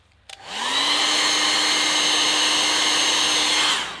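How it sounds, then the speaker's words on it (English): A hair dryer switches on after a click and blows steadily with a loud, even whir for several seconds to dry alcohol ink artwork, before cutting off. "get your hairdryer"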